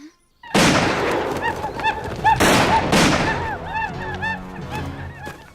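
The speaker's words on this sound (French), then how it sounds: "Des coups de feu?" Broadband cracks in a wooded frontier setting: a first loud blast, then two more sharp bursts about a second apart, each followed by ringing echoes and tonal calls like honking birds.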